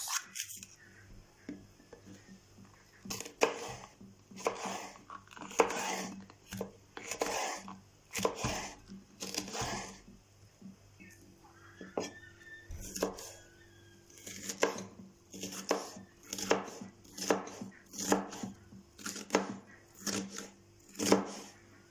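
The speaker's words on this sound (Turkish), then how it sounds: "Bir tane kapya biberi ince ince doğruyoruz" A knife chops a red kapya pepper finely on a cutting board in a home kitchen, a steady run of close, crisp blade taps in quick bursts with short pauses between, no voices.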